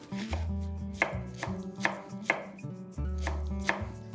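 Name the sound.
chopping vegetables finely with a knife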